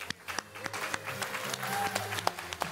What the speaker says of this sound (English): Big round of applause for Jason, please